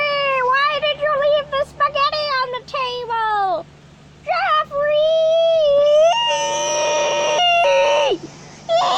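A person vocally imitates cats whining at night, producing loud, drawn-out meowing and wailing cries in a run of close, pitch-bending yowls with short breaks between them.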